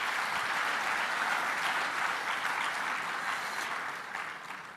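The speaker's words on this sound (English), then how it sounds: "Please join me in giving them one round of applause" Audience at a medical education conference closing ceremony clapping continuously, a dense, steady applause that stays loud throughout before tapering slightly near the end.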